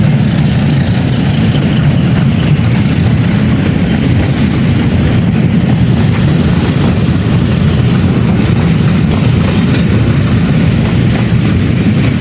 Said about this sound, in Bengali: ট্রেন, লোকাল ট্রেনটা ছেড়ে যাচ্ছে